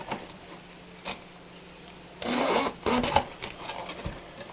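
A knife works through a cabbage to cut out its core on a kitchen board: a couple of short, sharp cutting strokes, then a longer crunching, scraping stretch of firm leaves and core being sliced, close up and fairly quiet with no talking.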